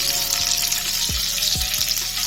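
Sausages frying in a pan give off a loud, steady sizzle and crackle throughout, with a few low thumps and pops beneath it.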